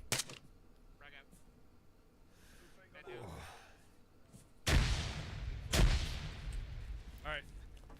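A frag grenade detonates in the game Arma 3 as a loud, close pair of explosive blasts with rumbling tails, following quieter talking and breathing.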